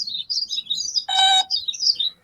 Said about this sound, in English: Now two birds are in a tree.